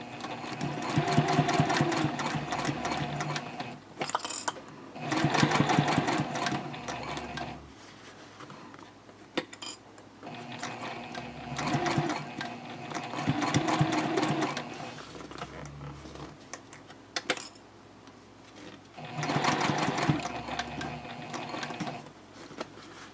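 A sewing machine stitches the two ends of a bag's lining together at a 2.5 stitch length, running in several steady bursts of whirring, rattling mechanism separated by short pauses.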